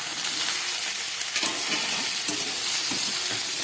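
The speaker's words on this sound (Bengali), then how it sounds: "এবার আমি দিয়ে দিচ্ছি কেটে রাখা শসা।" Chopped cucumber frying in a hot pan with cumin, ginger and pepper, a loud continuous sizzle with soft stirring scrapes of a spatula, no speech.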